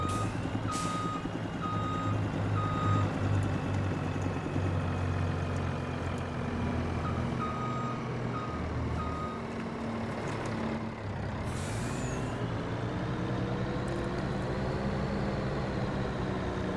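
A truck backing up on a Montana cattle ranch, its reversal alarm beeping in a steady repeated pattern over a loud idling engine, with an air brake hiss near the end.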